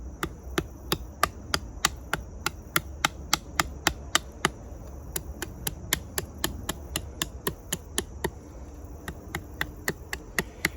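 A very sharp Mil-Tac CS-1 fixed-blade knife chops wood to carve a quick tent stake, with dozens of crisp, evenly spaced cracking strikes in a fast, steady rhythm, close and with no talk.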